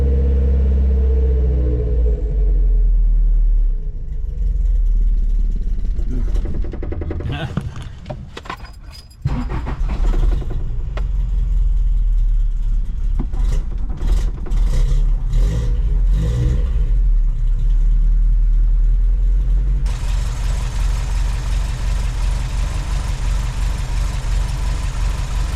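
The carbureted engine of a Toyota 4x4 camper idles while warming up, a loud, close, deep rumbling drone with some clattering and rattling mid-way and a steadier hissing run toward the end.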